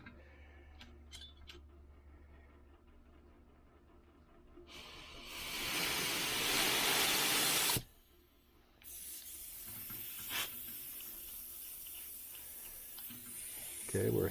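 Air hisses from the hose connection of a budget HVLP paint sprayer, a loud broadband rush lasting a few seconds, briefly cutting out, then resuming more softly amid faint ticks and clicks.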